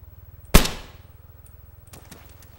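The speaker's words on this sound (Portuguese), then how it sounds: "O cara tomou um tiro e não morreu" A single sharp gunshot from the video game Arma 3 cracks out close and loud, then decays, over a steady low rhythmic hum, with faint clicks afterward.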